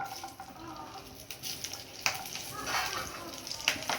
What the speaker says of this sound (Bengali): এবার আমি আদা রসুনটা ভেজে নেব।